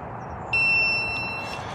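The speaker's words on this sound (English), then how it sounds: "This thing is gonna beep like this, loud as shit, for like 4 minutes straight." A Begode electric unicycle beeps during a firmware update, a loud, sustained piercing electronic tone that starts abruptly and holds steady over a constant background hum.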